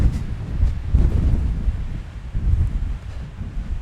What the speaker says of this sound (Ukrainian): Вітер дме, вітер дме